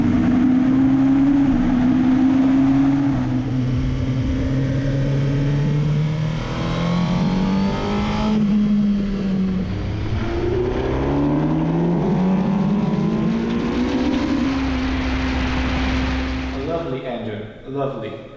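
A sporty engine revs and climbs through its range, the exhaust note rising and falling in long sweeps, loud and close throughout.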